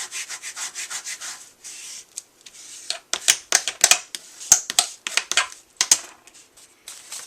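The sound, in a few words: rubbing paper with a bone folder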